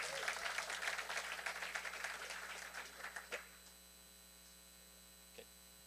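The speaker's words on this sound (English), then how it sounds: "Another round of applause for Dr. Sid O'Brien." Applause from a crowd at a biotech pitch competition, loud and dense at first, then fading out after a few seconds, leaving a low steady hum with a lone clap near the end.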